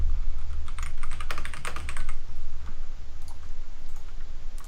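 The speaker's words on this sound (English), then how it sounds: "Let me make sure that I also write that in." Rapid typing on a computer keyboard during a league group draw, with irregular bursts of clicky keystrokes over a steady low hum, close by and with no talk.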